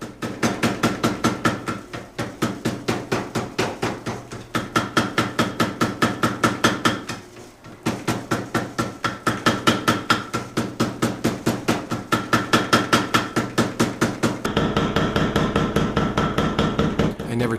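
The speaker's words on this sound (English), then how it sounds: "You can see the molten flux squirt out of the void as I hammer those two pieces of steel together." Power hammer forging hot steel, pounding two pieces together into a billet for a Japanese sashimi knife as molten flux squirts out. Rapid, rhythmic, loud metallic blows run in bursts separated by brief pauses, close and alone.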